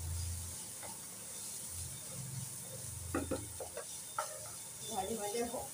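Boiled carrots, egg and peas hit a hot wok and fry with a soft, quiet sizzle, and a few light utensil clinks follow over a low background hum.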